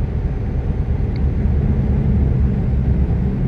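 Truck in Euro Truck Simulator 2 multiplayer rolling past, a steady low engine rumble and road drone, loud and continuous with no voices.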